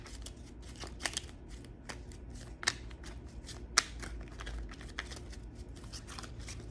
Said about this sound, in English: I'm going to pick out some fortune cookie oracle cards